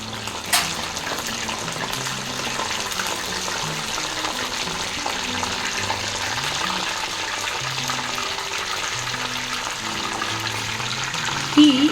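Aloe vera pieces, cut about 7-8 inches long, drop into hot homemade hair oil and sizzle steadily throughout, a dense continuous frying hiss with a sharper burst near the start and again at the end.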